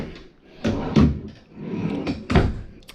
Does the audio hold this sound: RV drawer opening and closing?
yes